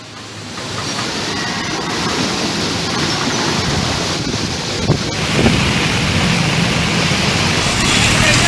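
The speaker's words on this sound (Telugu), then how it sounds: "ఇక తీరం వెంబడి గాలులు బలంగా వీస్తున్నాయి" Strong coastal wind during heavy rain in Visakhapatnam roaring across the microphone with steady crashing surf underneath, loud and continuous throughout.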